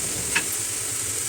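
Spice paste of fried onion, ginger-garlic paste, green chilli and chopped tomato sizzles in a pan, a constant soft frying hiss broken by one quick scrape of stirring.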